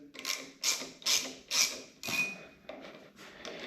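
Clutch cover bolts on a BMW S1000RR motorcycle are undone with a ratchet, giving a series of about seven short, close clicking bursts in a steady rhythm.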